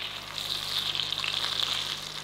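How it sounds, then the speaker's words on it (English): Spring rolls sizzle steadily in hot oil in a pot for Vietnamese spring rolls, a close, constant crackling hiss with no voices. "Ooh, sizzling."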